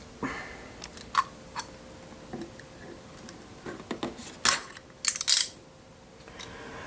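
Packaging tape on a Star Wars Black Series Luke Skywalker action figure box is cut and pulled, with scattered clicks, scrapes and crinkly rustles, close and quiet, no talking.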